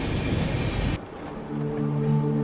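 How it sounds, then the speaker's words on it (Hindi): Monsoon rain pours steadily on a train travelling the Mumbai to Pune ghat section, a broad loud wash for the first second, then duller rushing with a low steady hum beneath. "अच्छी बात है कि बारिश जो है वो शुरू हो गई अब"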